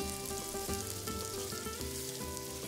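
Onions and garlic brown in fresh rendered pork lard over medium heat, giving a steady, dense sizzle close by with no talking.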